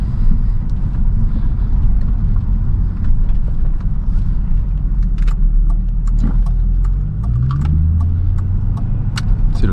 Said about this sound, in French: c'est notre premier trajet dans cette S-Type R